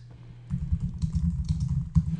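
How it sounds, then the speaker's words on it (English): Typing on a computer keyboard, a quick close burst of clattering key presses starting after a brief pause and running steadily to the end. "I could go in and start typing content into this space"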